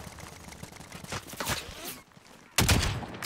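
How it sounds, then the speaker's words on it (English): Gunfire in the Warzone video game, a rattling burst of shots followed by a louder sharp volley after a brief lull, heard through game audio. "Where are they shooting from?"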